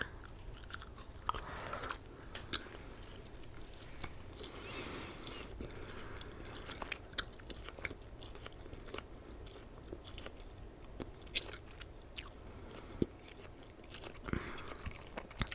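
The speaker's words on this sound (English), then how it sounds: "gonna go ahead and start chewing this" Someone chews watermelon gum right at the mouth in close, quiet detail, making soft wet smacks and irregular clicks over a faint room hiss.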